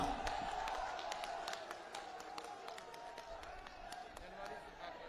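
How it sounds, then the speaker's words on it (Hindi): A large crowd claps and cheers at a Samajwadi Party political rally addressed by a party leader, with scattered sharp claps standing out over a steady roar of crowd noise and voices throughout. "जोरदार तालियां बजाएंगी, जोरदार तालियां"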